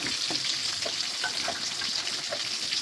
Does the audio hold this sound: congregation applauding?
no